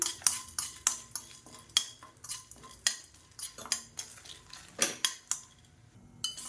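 Chana dal, fenugreek seeds, curry leaves and dried red chillies being stirred and dry-roasted in a pan, with a steady run of sharp clinks and scrapes from a metal spoon against the pan.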